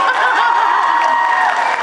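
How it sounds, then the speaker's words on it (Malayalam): Crowd at a mall promotion event for a Manju Warrier film clapping and cheering, a dense, steady burst of applause with murmuring voices, close and loud throughout. "നല്ല കൈയടി കൊടുത്തേ."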